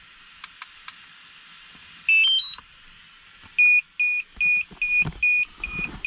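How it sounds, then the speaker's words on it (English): A DJI Mavic Air drone controller gives a sequence of short electronic beeps while failing to connect, first a rising pair and then a steady repeating pattern, with some handling noise. "Now this is beeping because it has to connect."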